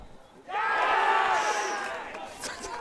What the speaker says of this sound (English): That's the biggest cheer we got so far.